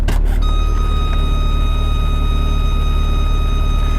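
Warning chime of a 1990s Ferrari F355 sounding with the door open and the key in the ignition: a continuous high tone held steadily over the running engine's low idle rumble, with no pause throughout.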